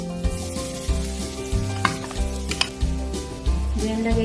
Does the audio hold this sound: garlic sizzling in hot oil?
yes